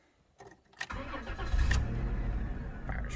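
A 1997 Dodge Caravan LE engine cranks briefly and catches, then settles into a steady, fairly loud idle close by, with no talking.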